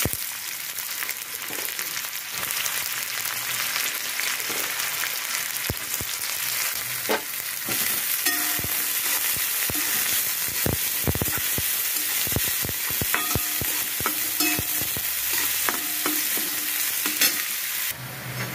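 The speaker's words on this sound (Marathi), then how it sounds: "आता याच्यामध्ये कांदा परतून घ्यायचा आहे." Onion fries in oil in a hot kadhai with a dense, continuous sizzle close by. Sharp scraping and clinking from stirring break through repeatedly over the whole stretch.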